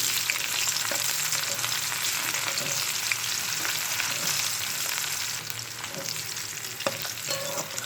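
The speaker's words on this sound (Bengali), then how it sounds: "পেঁয়াজটা একটু ভেজে নেব।" Chopped onion frying in a pan with panch phoron, a dense, steady sizzle close by, with occasional light taps of a utensil.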